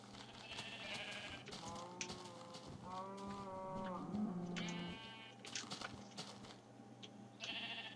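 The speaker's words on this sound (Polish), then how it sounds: "Jeszcze owca, dobra." Sheep in the video game Minecraft bleat again and again in wavering, overlapping calls over low background noise during a night trek, with several distinct bleats spread across the stretch.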